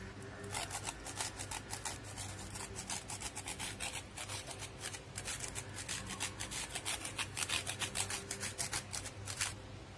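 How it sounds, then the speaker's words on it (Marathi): Fresh coconut rasped against a grater over thapi vadi, a close, busy run of quick dry scraping strokes that continues steadily for the whole stretch with no voices. "वरून थोडे खोबरे खिसून टाकायचे आहे"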